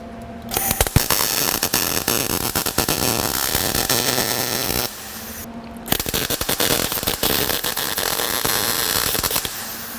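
MIG welding frame connectors onto a Ford Fox Body Fairmont underneath the car, dense loud crackling and sputtering arc in two long bursts separated by a short pause.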